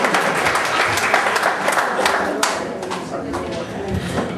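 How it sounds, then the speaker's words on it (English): Applause from a Nigerian community gathering audience in Västerås, Sweden, a dense continuous clapping wash lasting throughout, fairly loud with crowd murmur underneath. "Don't I deserve a simple applause?"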